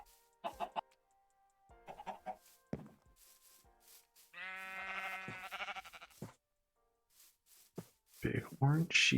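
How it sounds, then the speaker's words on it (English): A sheep in modded Minecraft gives one long, wavering bleat in the middle of otherwise sparse, quiet game sounds, with short scattered noises before and after it. "Big orange sheep."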